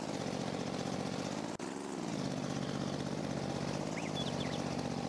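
A tractor in a farming video game, set on the Griffin Indiana map, drives slowly up beneath a grain bin. Its engine gives a steady, close, droning hum with one brief dip in the middle, and no one speaks.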